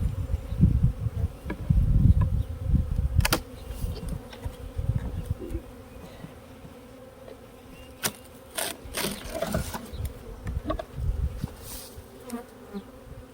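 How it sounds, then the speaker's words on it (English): Honey bees from a treatment-free backyard hive drone steadily around three frames, a dense close buzz that swells and thins, with occasional sharper clicks and knocks of handling. "3 frames of bees here."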